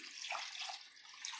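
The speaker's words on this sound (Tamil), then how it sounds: "இந்த கப்பால் 2 கப்பு தண்ணி சேர்த்துக்கலாம்" Water pours from a cup into a pot of Tamil chicken curry, a steady soft splashing hiss lasting the whole moment, faint and alone with no talk.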